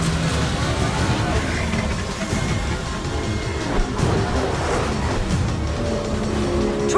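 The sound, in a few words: taxi car driving and tires squealing in video game Mass Effect 2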